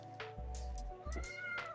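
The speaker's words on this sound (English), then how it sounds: "That's what that noise is. It's the cat." Cat meowing close by, a couple of short chirpy meows in quick succession over a faint background hum, no talk.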